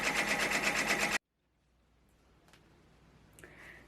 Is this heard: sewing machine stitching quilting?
yes